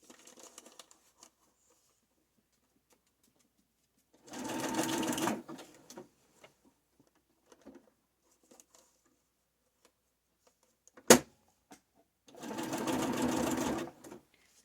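A sewing machine stitches snippets of paper roll together, running in two close, steady bursts of a few seconds each, separated by quiet pauses and a sharp single click.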